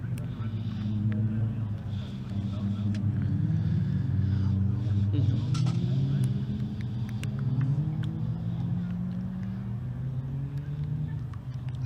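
A pack of Caterham race cars rounds Cadwell Park on a green flag lap, a steady loud engine rumble with overlapping passing cars throughout, mixed with a voice talking.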